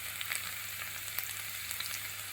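Finely chopped ginger frying in hot oil for a meatless papaya curry, giving a steady, close hiss of sizzling with small crackles and no voices.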